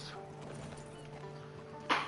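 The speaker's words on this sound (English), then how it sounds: "Get on this horse." Hooves of a horse in Red Dead Redemption 2 clip-clopping at an easy pace, faint and steady beneath a low game ambience hum, with a brief louder bump near the end.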